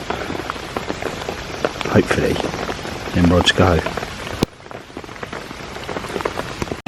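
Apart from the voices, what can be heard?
heavy relentless rain at a lake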